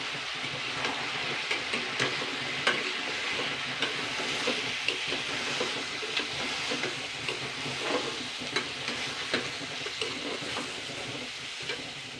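Chicken curry with onion and raw tomato paste sautés in a pan, a steady close sizzle broken by regular scraping stir strokes throughout.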